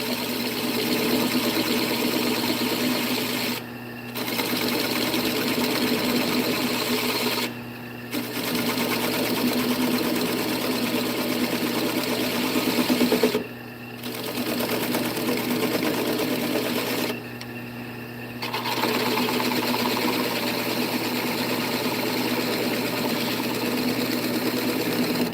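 A wood lathe spins steadily as a spindle gouge makes fine cuts on the bottom of a turned bowl, giving a continuous close whirring hum with three or four short dips where the tool lifts off the wood.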